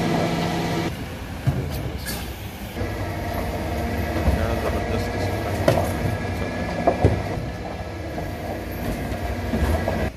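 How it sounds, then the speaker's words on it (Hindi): A large garbage collection truck rolls forward along a German street collecting cut leaves and tree branches, giving a steady, loud mechanical rumble and clatter with occasional squeals and knocks that continue throughout. "गाड़ी आगे आती जा रही है और कलेक्ट करती जा रही है"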